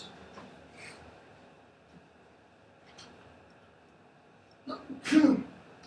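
A short sneeze near the end, fairly close, following a few quiet clicks over a low steady hum.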